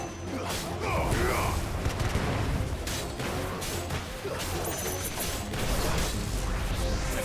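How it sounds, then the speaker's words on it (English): Dense, continuous battle din from Final Fantasy XVI, with booming blasts, crashes and metallic impacts layered over loud combat effects, and a voice talking briefly over the action. "Explosion."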